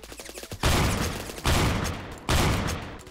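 Slug sniper rifle firing in Roblox Phantom Forces, three heavy, close, booming shots spaced roughly a second apart, each followed by a long ringing decay, with no talk over them.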